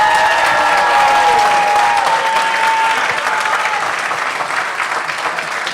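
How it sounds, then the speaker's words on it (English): Loud, dense audience applause at a startup demo day presentation event, sustained clapping with a few crowd whoops early on, gradually thinning slightly toward the end. "Can we clap it up for Jordan?"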